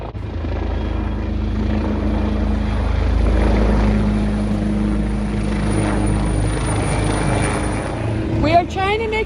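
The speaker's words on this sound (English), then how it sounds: "There goes the copter for the boy! It's coming back to us." A rescue helicopter circles overhead near a hiking trail in Killarney Provincial Park, its loud rotor and engine drone filling the scene and swelling and fading as it passes, with voices speaking over it.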